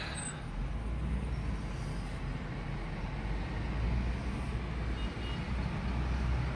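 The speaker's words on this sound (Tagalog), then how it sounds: "medyo ma-traffic dito banda sa may panda" Near-steady road traffic noise in heavy traffic in the Philippines forms a continuous low rumble and hiss of passing vehicles at fairly loud level for several seconds, with no distinct individual horn or voice standing out.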